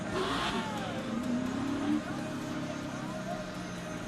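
NASCAR Xfinity Series race cars roar around Watkins Glen, engines revving and sweeping past in overlapping waves under steady commentary from a broadcaster.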